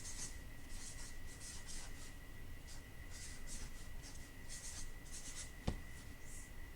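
A pen writes a label on a cut-apart file folder in short scratchy strokes with small pauses between words, close and quiet over a faint steady hum, with one tiny knock near the end.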